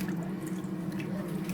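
Water poured over maize for homemade kenkey, a soft, steady trickle with low sloshing heard close up and with no talking.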